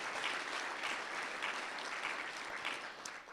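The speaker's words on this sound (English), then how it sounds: "That deserves a round of applause." An audience claps in a civic hall during a city's state-of-the-city address, a sustained steady wash of applause at moderate volume from many hands, with no speech over it.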